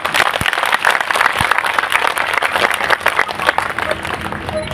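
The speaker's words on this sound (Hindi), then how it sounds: "एक बार इस मैनेजमेंट के लिए जोरदार तालियां।" Loud, dense applause from an audience at a Shri Ram Katha religious gathering at a Shiv temple in Mohali, continuous clapping throughout with a couple of sharp thumps.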